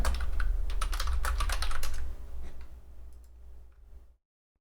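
Fast typing on a computer keyboard while renaming a body in Fusion 360 software, a close burst of clicky keystrokes that trails off into a few scattered taps before silence.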